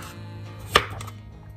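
A single knife cut through a citrus cucumber on a cutting board, one crisp clean chop in a quiet room with no voices.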